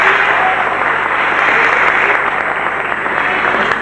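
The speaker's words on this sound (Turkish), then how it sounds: "Alkış kıyameti." A studio audience at a 1999 Turkish television show claps in loud, sustained applause, a dense continuous patter that fills the whole stretch without easing.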